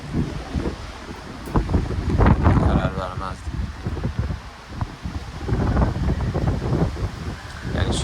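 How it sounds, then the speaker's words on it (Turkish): Strong storm wind in Halifax buffets and roars in uneven gusts, with rushing noise swelling and easing over several seconds, heavy and close. "Bir anda rüzgar sert bir şey vurmuş bir cisim vurmuş gibi ses etkisi yaratıyor"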